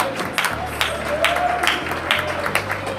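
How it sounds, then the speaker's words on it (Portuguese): A church congregation claps and applauds in worship, with rhythmic clapping and some crowd voices over a low sustained hum, steady throughout. "Pode dar glória a Deus com as palmas, igreja."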